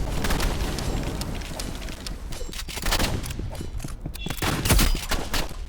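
Rapid gunfire in the shooting game Rivals, with dense, loud bursts of shots fired in quick succession and almost no pause between them.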